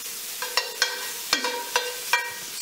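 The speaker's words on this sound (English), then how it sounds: "first up, bacon in the pan" Bacon frying in a pan: a steady soft sizzle broken by six sharp spatula scrapes and taps at uneven intervals, close and clear, with no talking.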